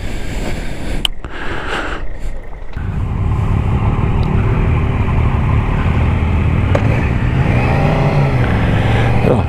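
A motorcycle engine idles and runs steadily with the side stand down as the rider clicks it into gear on a wet touring ride in northern Scotland. The steady drone follows a few sharp knocks and handling noises near the start.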